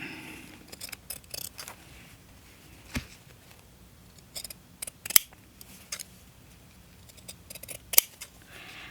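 Scissors cutting through fabric from recycled overalls: crisp, close snips come in irregular bursts with pauses between them, and a few sharper, louder cuts stand out.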